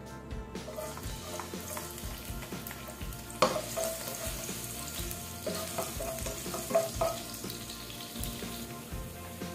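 Garlic frying in hot oil in a pan for a beef soup, giving a steady, close crackling sizzle with scattered pops throughout, with no talk over it.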